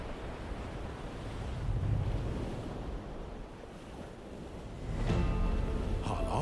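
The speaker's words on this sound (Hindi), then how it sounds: "जब लहरें पहाड़ों जैसी उठती हैं, तो इन छोटी कश्तियों में बचने की उम्मीद बहुत कम होती है" High ocean waves surge and crash in a continuous roar of surf mixed with gusty wind buffeting the microphone. The swell rises and falls in loudness and there is no speech.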